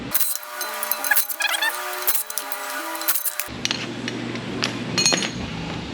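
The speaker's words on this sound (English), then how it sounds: "Next, I'm going to pull the e-brake and the brake backing plates" Metal parts clink and clank as the e-brake and brake backing plates come off the rear end of a Firebird during a rebuild, with sharp, intermittent knocks and rattles close by in a workshop.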